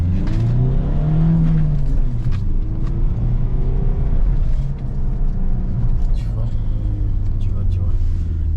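Peugeot 308 engine at full throttle, a loud rising rumble and whine with shifting pitch sweeps, heard from inside the car under wind and road noise, with voices talking over it.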